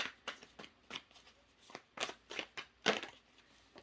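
Tarot cards being shuffled and drawn by hand, a close, quiet run of crisp flicks and soft slaps in an uneven rhythm, with no voices.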